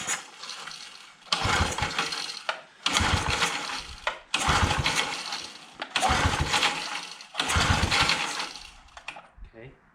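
A vintage mini bike's flathead engine being cranked over repeatedly, five or six loud pull-start bursts of chugging separated by pauses, close by, without catching to a steady run.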